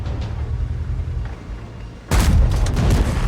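A Vz. 55 tank's cannon fires in World of Tanks on the Westfield map. One heavy boom cuts into a low engine rumble, then the blast and a roar linger loudly, with no talking.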